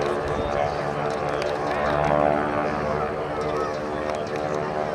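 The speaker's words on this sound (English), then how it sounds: "This is the beginning of a routine flight of Army training planes." Propeller-driven Army training planes drone steadily in old film footage, a constant loud engine roar that swells slightly midway and stays unbroken throughout.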